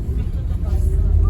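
Brand new Enviro 400 MMC double-decker bus on route M2, a close, loud low engine rumble idling and pulling with steady road noise.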